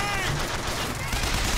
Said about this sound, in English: Can you please fucking stop shooting at me?